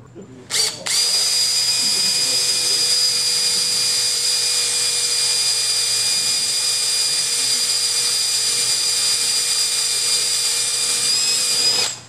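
A small power drill with a 1/16 inch bit whines steadily at high pitch for about eleven seconds after a brief start, close and loud with no pauses.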